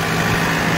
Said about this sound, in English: if you guys want to hear what this regen sounds like